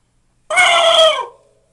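A mouth-call imitation of a turkey gobble used in turkey hunting sounds once, loud and close, a warbling burst lasting about three quarters of a second, with quiet before and after.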